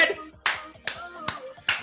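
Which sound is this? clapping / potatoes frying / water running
clapping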